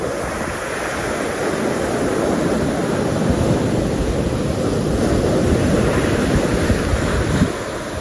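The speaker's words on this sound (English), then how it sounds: "The waves are coming in." Ocean surf rolling in and breaking steadily on 90 Mile Beach, a continuous broad wash of waves close by with some wind buffeting the microphone and no voices.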